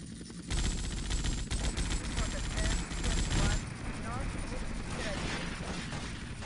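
Dense, loud gunfire in GTA Vice City, with shotgun blasts and rapid shots packed together for about three seconds before easing into a rumbling, chaotic game soundscape.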